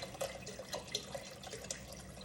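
Water poured into a pot for chicken-broth soup, giving a short, soft splashing trickle close by, with no voices.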